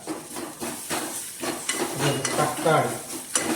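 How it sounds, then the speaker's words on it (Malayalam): Curry leaves and chopped green chili hit hot oil in a pan, giving a close, crackling sizzle with stirring scrapes and light utensil clinks throughout. "ഇനി കുറച്ച് കറിവേപ്പില ഇവിടെ ആഡ് ചെയ്യാം"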